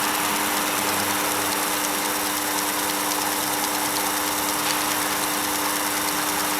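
A Sherline lathe runs steadily with a continuous motor hum and a constant tonal whine while an X-Acto blade cuts silicone PVC tubing. Steady and close, no talk.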